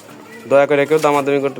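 Pair of Rajgolla pigeons, a male and a female, cooing close and loud, with a series of throaty rolling coos that pulse in quick bursts after a brief quiet start.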